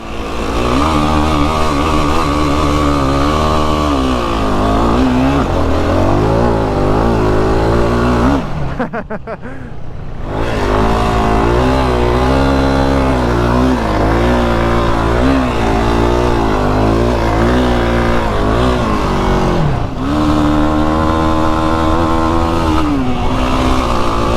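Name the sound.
Yamaha sport ATVs riding and revving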